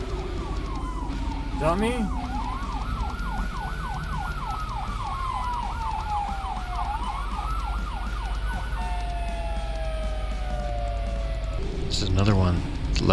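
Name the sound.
ambulance siren passing in traffic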